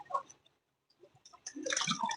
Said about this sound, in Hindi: ये ठंडा ठंडा पानी